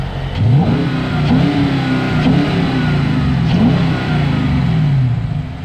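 A Dodge Challenger's 5.7-litre HEMI V8 revving loudly up close, several rising and falling throttle blips over a deep idle rumble.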